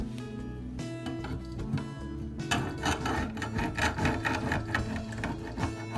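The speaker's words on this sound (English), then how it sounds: "I'm going to start with a scraper and just try and scrape off some of that loose paint" Rough, rhythmic strokes of a paint scraper removing loose paint from a household surface, fairly close and steady, growing louder and busier in the second half with no talking.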